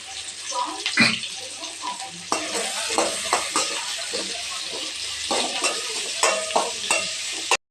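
Onions with a pinch of salt sauté in a pan, giving a continuous bright sizzle broken by repeated spatula scrapes and a heavy knock early on, close and fairly loud throughout.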